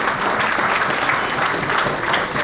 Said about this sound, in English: a big round of applause is due for Malik Mushtaq Ahmed, please